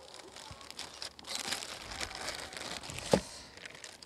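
Soft, close crinkling of a Ziploc plastic bag rustles on and off, ending in a sharper crunch of the bag near the end.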